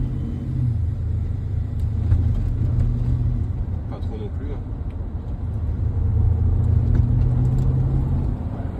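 BMW X5 50i xDrive accelerating from inside the cabin, a deep steady engine rumble rising and swelling under a man's brief French remarks.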